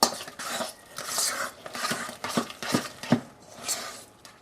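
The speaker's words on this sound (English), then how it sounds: "mix this all together thoroughly" Hushpuppy batter with beaten egg and milk stirred in a bowl, giving uneven scraping and clinking strokes of a utensil against the dish, close and moderately loud, with no talking.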